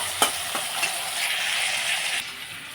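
Potatoes frying in a pan while a Tangra fish chorchori is being cooked, a steady close sizzle with a few sharp stirring clinks near the start and no voices.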